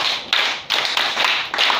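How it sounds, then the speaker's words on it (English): Children in a classroom clap for themselves, a brisk burst of many hands clapping together in several dense, rhythmic waves, close and loud with no talking. "Clap for yourselves."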